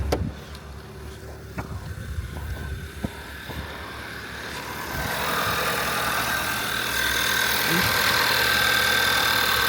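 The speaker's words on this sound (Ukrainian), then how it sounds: "Моторчик працює рівненько." A few clicks and thumps nearby, then a car engine settles into a steady, even idle, its smooth drone filling the rest of the clip.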